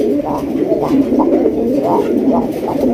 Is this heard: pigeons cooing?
yes